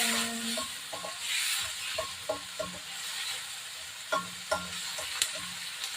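Stir-fry being sautéed over a wood fire in a pan on a tripod, with a steady sizzle and scattered sharp clacks of a utensil scraping and tapping the pan.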